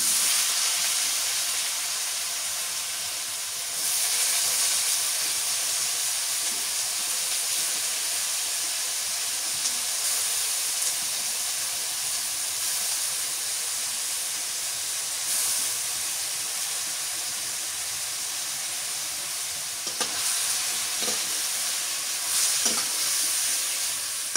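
Pointed gourd (potol) frying in hot oil in a village kitchen, giving a loud, continuous sizzle and hiss that runs throughout with occasional stirring and faint knocks.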